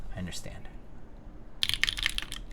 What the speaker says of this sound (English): I can do another typing test really quick